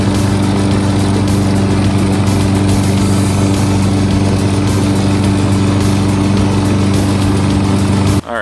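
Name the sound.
lawn mower mowing up thatch after dethatching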